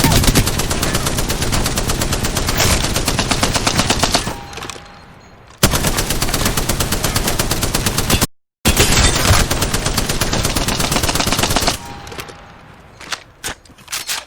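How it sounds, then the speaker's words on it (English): Spitfire light machine gun in the Apex Legends video game firing long, loud, rapid sustained bursts in several stretches, broken by brief pauses and a few scattered single shots at the end, with no talk. "is a double Spitfire loadout, which you pretty much never stop shooting with this"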